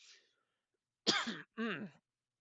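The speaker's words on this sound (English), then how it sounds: "I don't know why I'm coughing" A person gives a few short throat-clearing coughs up close, a faint rasp followed by two distinct bursts in a quiet room.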